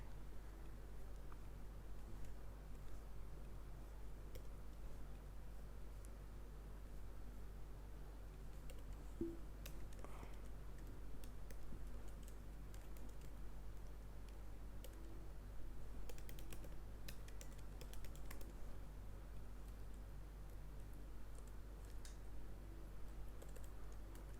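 Computer keyboard typing while fixing code in a Svelte web tutorial, quiet and steady keystrokes close by with irregular bursts, no talking over it.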